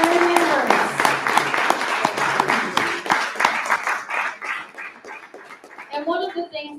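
Warm round of applause from a Rotary club gathering welcoming new members at an induction celebration, steady clapping with a dog's whimpers and barks mixed in and voices near the end.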